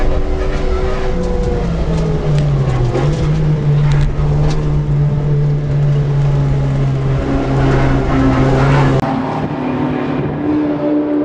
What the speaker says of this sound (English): Here's Brian Matchett in his VX HSV GTS.